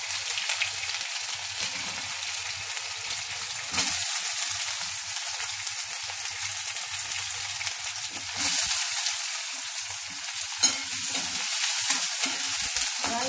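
Steady oil sizzle of sliced ivy gourd frying in a pan with mustard seeds, a constant crackling hiss that swells a couple of times as the contents are stirred or added.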